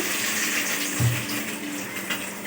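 Tap water runs steadily into a sink while something is rinsed before making fried rice, a constant close splashing hiss with a brief louder gush partway through.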